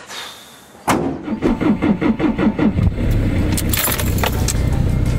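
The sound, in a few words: camper van engine failing to start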